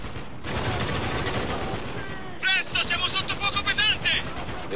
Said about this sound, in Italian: Sento altri spari.